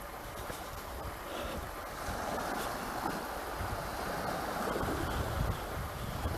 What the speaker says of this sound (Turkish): Kuzey Denizi normalde çok dalgalı olur.